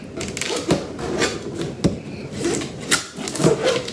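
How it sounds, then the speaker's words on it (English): Cardboard box holding a Husqvarna backpack blower being cut open, giving scratchy tearing and rubbing noises broken by several sharp cracks and thumps, close and fairly loud with no talking. "Cutting it open now, as you can hear."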